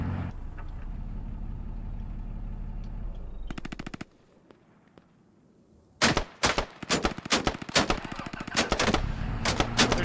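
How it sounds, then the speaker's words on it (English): Gunfire in the military shooter game Squad: a low engine-like rumble gives way to a rapid automatic burst, a short lull, then repeated loud bursts of machine-gun fire close by. "They're shooting at me again."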